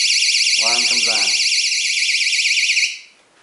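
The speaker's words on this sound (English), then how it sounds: "a mousetrap that will have an alarm when it goes off" A loud, continuous electronic warbling alarm from a mousetrap that has just been triggered, steady for about three seconds before cutting off, with a brief voice speaking underneath near the start.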